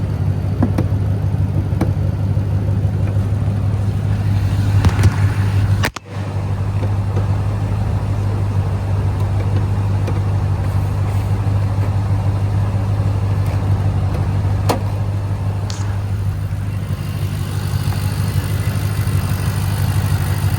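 A supercharged 2009 Ford GT500 convertible engine idles with a steady low drone close up, broken by a brief clunk early on before the even running resumes.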